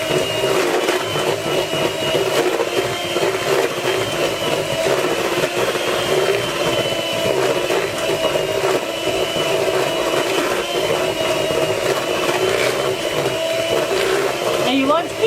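An electric mixer whirs steadily and continuously through Dundee cake batter, a constant motor drone with a faint beating texture, close and unbroken.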